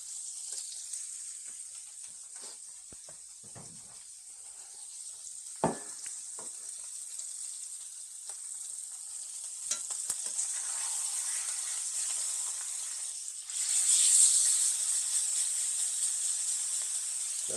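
Steak sears in a hot pan with a steady high sizzle and crackle, loud and close, swelling brighter near the end with occasional soft clinks, no voices.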